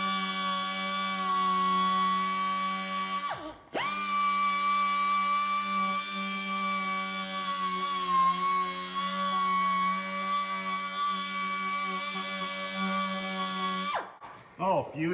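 A small power tool sands with a triangle-cut Velcro sandpaper disc during a Peterbilt 359 restoration, a steady high whine running nearly the whole time, briefly stopping once and cutting off near the end.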